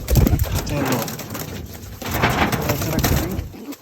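Low, rolling coos of several pigeons close by, repeating continuously over rustling and a faint voice in the background.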